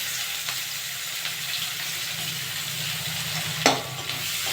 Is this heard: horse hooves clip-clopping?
no